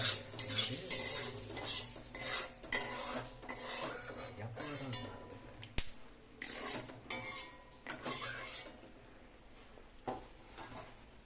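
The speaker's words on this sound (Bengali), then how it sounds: "ডিম ভাজছো" Eggs fry in a pan for an egg curry with coconut milk, with scraping stirs, clinks of pots and utensils and a soft sizzle running steadily underneath, close by and moderately loud, with no talk.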